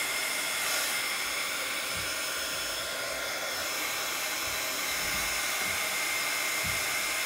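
A heat tool blows continuously to heat set a freshly dipped coating, making a steady, even airy roar with no pauses. It is close and heard alone.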